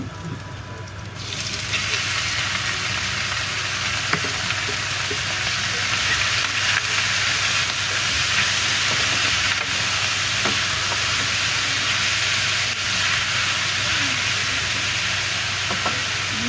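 Meat sizzling in a hot pan for papaitan, a steady broadband frying hiss that swells after the first second and holds loud and even throughout, with faint stirring clicks and no talk.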